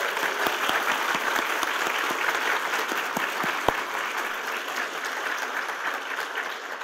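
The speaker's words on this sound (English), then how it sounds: "Round of applause" A convention audience at a talk with Junji Ito at TCAF 2019 gives sustained, even applause of many hands clapping together, close and continuous, tapering slightly toward the end.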